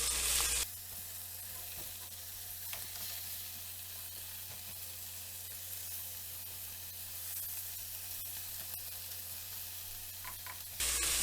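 Jamaican-style oxtail fries in a pot in its own rendered fat, giving a steady, quiet sizzling hiss with occasional faint crackles throughout.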